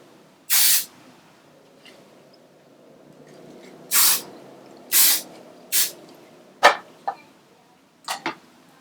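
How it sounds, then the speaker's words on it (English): L'Oreal Volume hairspray sprayed at the roots of the hair, close and loud: three longer hissing bursts followed by several short quick puffs, with quiet pauses between them. "And this is the L'Oreal Volume hairspray. So I'm just going to use this at the roots to give the roots a bit of volume."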